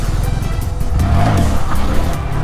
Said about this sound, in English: Let's try to do some first gear wheelies